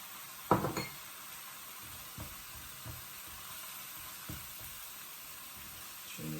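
Indian curry spices simmering in a pan give a steady low sizzle throughout, with a few brief utensil clinks and stirring scrapes near the start and scattered later.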